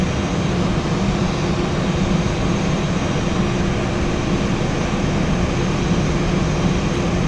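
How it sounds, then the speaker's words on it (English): An aircraft's number 2 engine spools up in the X-Plane 11 flight simulator, a loud, steady broadband roar with an even engine hum holding throughout, no speech over it. "Okay, engine number 1 is available, and we'll take in engine number 2."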